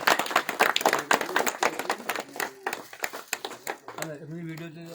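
An audience at a school farewell party claps steadily in welcome as bouquets are presented, the clapping thinning out as a voice begins talking near the end.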